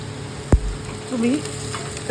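Four green chilies, halved, dropped into a hot pan of oil while cooking veg pulao, giving a sharp thud on landing and then a brief burst of sizzling.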